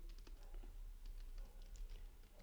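Computer keyboard typing during setup of a new Laravel 11 project, a steady patter of quick key taps at moderate, close level with no talking.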